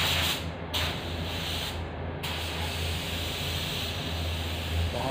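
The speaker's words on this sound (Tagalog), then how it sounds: "Dahan lang po tayo sa pag-spray para quality yung pera natin." Polyurethane paint sprayed from a spray gun in pastel denim blue, a steady close hiss running throughout with two brief pauses near the start.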